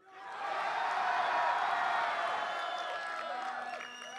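Esports grand final crowd at an arena, cheering and whooping in a loud sustained roar that swells and holds, with some tonal shouts and whistles mixed in.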